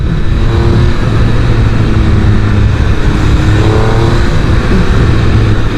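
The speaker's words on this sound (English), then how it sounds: "The engine is sweet as a nut." Triumph Speed Triple 1200 RR motorcycle engine running steadily and loud up close, a continuous rumble with some revving swells throughout, no talking.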